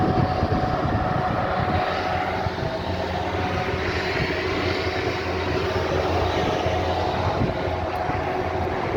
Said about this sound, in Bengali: আমাদের কোম্পানির সব কিছু এখানে 4টে জেনারেটর চলতেছে।